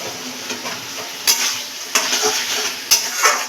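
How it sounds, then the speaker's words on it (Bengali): Fish-head and pumpkin ghonto with coriander leaves stirred in a pan over a low flame, a steady gentle sizzle broken by three sharp spatula knocks against the pan and scraping strokes between them. "দিয়ে এটাকে আমরা একটু নাড়াচাড়া দিয়ে নেব"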